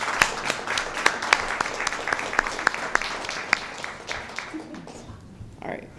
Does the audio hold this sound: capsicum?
no